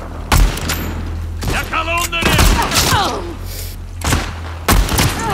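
Gunfire in The Last of Us Part II comes as several sharp, loud shots with heavy low thumps, spaced irregularly across the moment, over steady game background noise and a voice talking between the shots.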